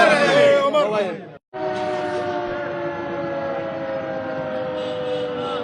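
A long, steady siren wail at a police lines blackout in Jaunpur holds one sustained tone after a brief burst of voices and noise, continuing evenly to the end.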